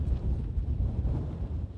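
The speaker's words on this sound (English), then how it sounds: "Antarctica is not only the coldest place on Earth, it's also the windiest." Strong Antarctic wind roars steadily into the microphone, a dense low rumble with gusty buffeting and no voices.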